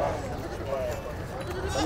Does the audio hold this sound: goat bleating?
yes